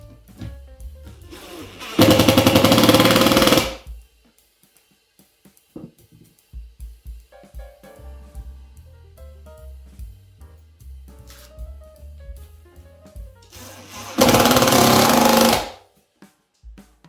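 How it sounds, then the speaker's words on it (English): A power driver runs a screw into a nutsert on an 80/20 aluminium panel, making two loud, close, buzzing whirrs of about two seconds each, far apart, with quieter handling clicks and rattles between them. "we'll screw into the nutsert and hold the panel secure like that"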